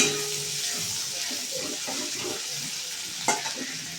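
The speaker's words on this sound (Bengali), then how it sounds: "টমেটোটা দেওয়ার পর বেশি ভাজবো না, এবার ডালটা দিয়ে দেবো ওর মধ্যে।" Lentils are poured into tomatoes and vegetables frying in a pan, giving a steady hiss and sizzle with wet stirring sounds and a brief clatter near the end, close up.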